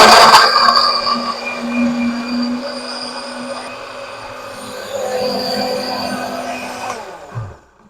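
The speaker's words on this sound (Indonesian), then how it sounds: "sekarang Bunda mau blender dulu bumbunya ya" Electric blender grinding spice paste for a coconut-free fish curry (gulai ikan), a steady loud whirring motor drone with high whine that runs continuously for about seven seconds, then stops abruptly.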